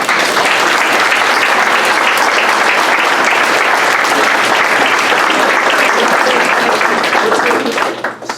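Loud, sustained audience applause for sponsors in a room at a basketball event, dense clapping that fills about eight seconds before tapering off at the very end.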